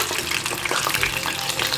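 Chicken lollipops deep-frying in hot oil, a steady dense sizzle and bubbling crackle that stays loud and even throughout, with no talking.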